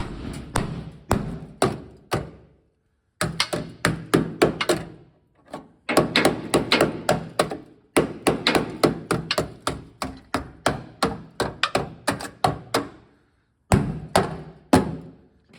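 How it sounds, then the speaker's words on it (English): Sharp, repeated taps of a pointed-end body hammer against a rusty truck body panel, landing in quick bursts of knocks with short pauses between runs, close and fairly loud. "get you a body hammer, and the body hammer comes with this nice and fine point on the end."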